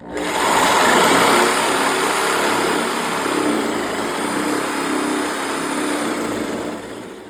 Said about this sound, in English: I got this little shear, electric shear that works.